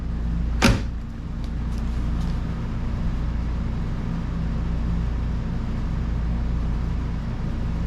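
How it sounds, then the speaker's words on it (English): A 1984 Bertone X1/9 door with new weather stripping swings shut in one sharp, close thump, followed by a steady low hum for the rest of the moment. "So now when we close the door,"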